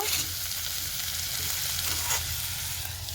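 Goat fat sizzles and fries steadily in a pan, a dense, continuous crackle with no voices over it.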